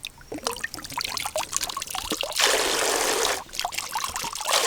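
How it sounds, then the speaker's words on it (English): A medieval vessel is dipped into water at the Cēsis Castle grounds in Latvia, and water trickles and pours in with close, gurgling splashes as air bubbles out, surging into a fuller rush briefly before settling back to dribbling. "So I merge it in water, and you can see the air is coming out by the bubbles."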